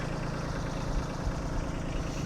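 A tractor engine idles close by in a yard, a steady, even low-pitched chugging hum that holds constant without revving.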